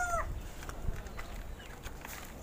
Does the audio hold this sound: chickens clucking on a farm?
yes